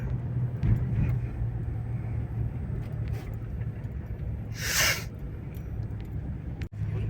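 A GAZ 3309 truck engine runs steadily with a low, continuous rumble from inside the cab, driving along on a snowy April day, with a brief louder hiss midway and a sharp thump near the end.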